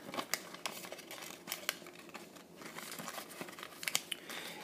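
Paper is folded and creased into an origami box, giving close crinkles and sharp crisp snaps scattered at irregular intervals over a quiet background, with no talking.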